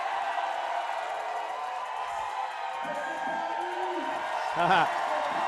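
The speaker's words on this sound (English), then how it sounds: "Crowd is into it." A crowd at a bouldering competition final cheers and murmurs in a steady roar under a close commentator's voice, with a brief swell of whooping near the end.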